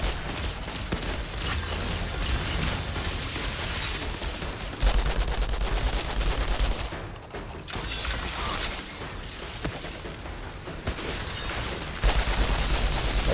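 Dense automatic gunfire from turrets in the Outriders video game, continuous rapid bursts with brief gaps, loud and close, mixed with heavy in-game combat noise.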